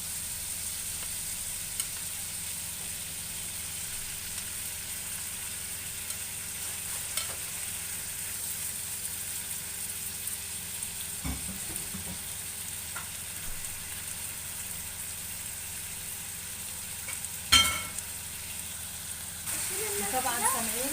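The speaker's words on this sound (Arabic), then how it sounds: "طبعا سامعين صوت الطشطشه الرهيبه بتاعتنا" Shawarma fries in a pan with a steady, close sizzling hiss and occasional stirring scrapes, while a voice talks quietly over it.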